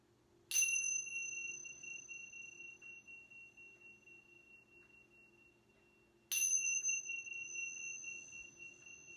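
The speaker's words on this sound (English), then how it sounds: "The chanting bells are rung three times in the power of the spirit, mind, and body" A meditation chime or bell rings out clearly twice, each strike sharp and bright with a long shimmering ring that slowly fades, heard alone over a quiet room hum.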